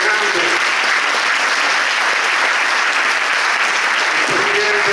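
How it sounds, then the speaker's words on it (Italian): A dense, steady roar of applause from a large audience at a 2023 calendar presentation in Termoli, with hands clapping continuously and evenly for the whole stretch and a voice briefly audible over it. "ti rivolgiamo un grande applauso"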